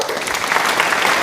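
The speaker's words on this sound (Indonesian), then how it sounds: "Beri tepuk tangan." An audience claps to welcome a guest at an Islamic talk, with loud sustained applause throughout.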